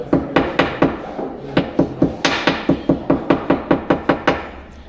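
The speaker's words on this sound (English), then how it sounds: "I will break the fiber using this hammer, this mallet." A wooden mallet pounds strips of papyrus fiber in a papyrus workshop, landing about fifteen sharp, hard thuds close up at an uneven but steady rhythm with brief pauses between blows.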